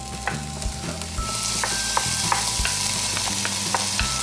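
An onion sizzles in a teaspoon of butter in a pan, a steady frying hiss with frequent utensil scrapes and taps as it is stirred, close and continuous.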